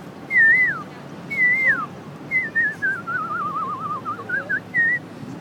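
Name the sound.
voice imitating koel bird call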